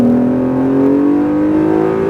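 A loud Acura NSX engine revs steadily upward on a race track, its pitch climbing smoothly as it accelerates hard, close and continuous with no talking.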